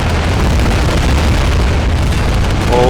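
Dense, continuous roar of gunfire and explosions in the Army Men of War game, a loud unbroken wall of blasts with no clear gaps.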